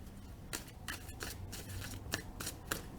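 A tarot card deck being shuffled indoors, a quick run of sharp, crisp riffling snaps and slides repeating every few tenths of a second, close and fairly quiet, with no voices.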